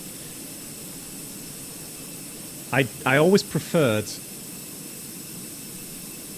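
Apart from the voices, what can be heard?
IAE jet engines of FENIX airliner, flight simulator video game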